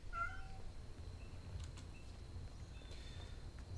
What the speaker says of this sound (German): dass die Katze gerade im Hintergrund quietscht